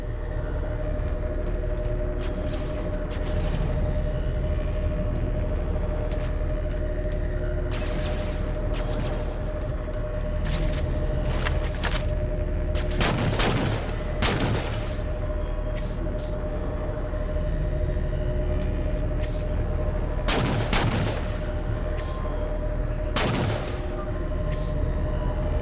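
Gunfire rattles through a firefight in Halo 4, sustained bursts and single sharp shots over a constant low engine hum, several loud near bursts clustered together and others farther off.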